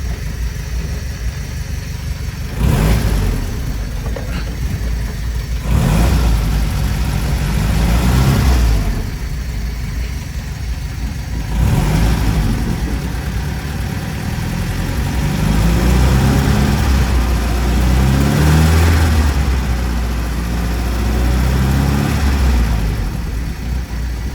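Renault Monaquatre vintage car engine running steadily with a low idle rumble, swelling into several louder revving surges that rise and fall throughout.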